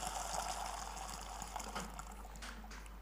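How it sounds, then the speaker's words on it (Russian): Boiling water is poured in a steady, hissing splash that stays fairly constant throughout, close by and moderately loud, with no talking. "Я прям по звуку слышу, что это кипяток"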